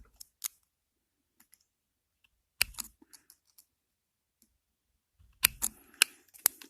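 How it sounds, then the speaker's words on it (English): Tin snips cutting small tabs from sheet metal, sparse sharp snips and clicks in scattered clusters, close and quiet, with no talk. "So I'm going to make some little tabs here using tin snips."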